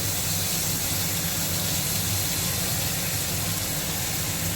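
Dried red chillies sizzle in hot oil with black cumin, the tempering for a sour-spicy tilapia dish. A loud, steady, hissing fry runs without a break, and no one speaks.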